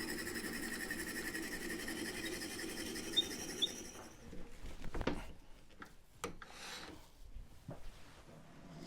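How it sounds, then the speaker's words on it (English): Wood lathe runs with a steady mechanical hum while an old table leg is mounted for turning into a tool handle, then the hum drops away into scattered knocks and handling noises. "Turn the lathe on and wind the tailstock in."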